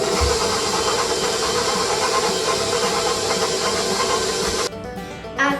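Electric mixer running at medium-low speed through cookie dough, a steady loud whirring drone that holds for most of the stretch and then drops off briefly near the end before a short burst.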